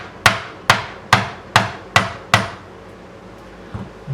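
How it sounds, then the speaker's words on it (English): A fretting hammer knocks a fret into the neck of a Stagg bass guitar, six sharp, evenly spaced taps ringing close up, then a pause and a fainter knock at the end. "we're just going to take the fretting hammer and just knock this in"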